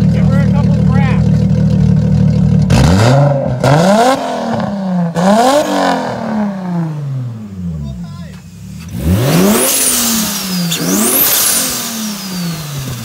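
A grandma's car engine revs hard while being driven, with repeated rising accelerations and gear-shift drops, loud and close, and a voice speaking over it.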